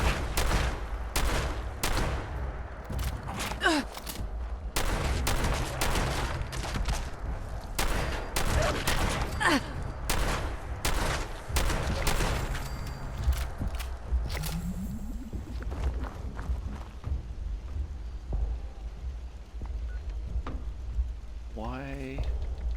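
Automated turrets fire repeated bursts of gunfire in Fallout 76, sharp cracks coming in clustered volleys over much of the stretch before trailing off, with scattered game sounds near the end.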